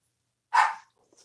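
A single short dog bark, sharp and fairly close, followed by quiet.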